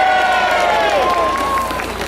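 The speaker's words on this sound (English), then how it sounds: "Come on, give them a cheer!" A crowd at a Christmas lights switch-on in South Molton cheers and claps, a broad outdoor roar of voices held at steady loudness, with a drawn-out sung or whistled tone sliding through it.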